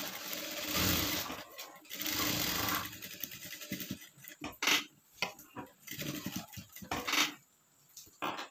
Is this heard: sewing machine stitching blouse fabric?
yes